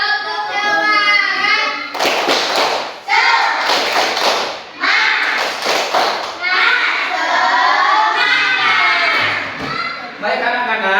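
Schoolchildren in an Islamic religious education class do a rhythmic spirit clapping chant, their voices loud and close, with bursts of sharp claps and thumps between chanted lines.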